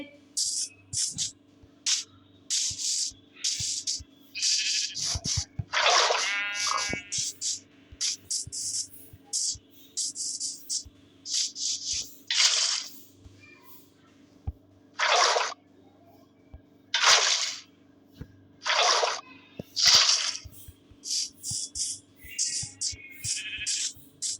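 Repeated bucket pours of water in Minecraft produce short hissing splashes at uneven intervals, some quick and clustered, others spaced apart, over a quiet low background hum.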